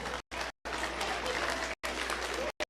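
A crowd at the Moore County stock show claps for a class champion, steady applause broken by a few brief pauses, moderately loud with some voices mixed in.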